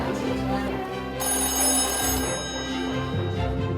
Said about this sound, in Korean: 세월의 흔적과 함께 멋스러움도 느껴지는 다이얼 전화기